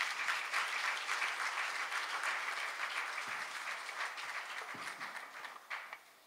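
A congregation applauding inside a church during a dedication day service, sustained dense clapping from a crowd that stays loud and steady before tapering slightly near the end.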